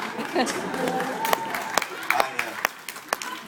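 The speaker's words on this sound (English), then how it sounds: "Why are you applauding that?" A stand-up comedy crowd breaks into applause, with dense clapping and some sharp individual claps over a murmur of chatter, fairly close and steady for a few seconds.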